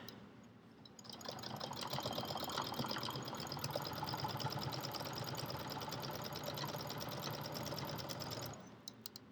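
A sewing machine runs steadily while stitching a quarter-inch seam across a fabric potholder, a continuous rapid mechanical whir heard close up for about seven seconds, starting and stopping cleanly with no talking.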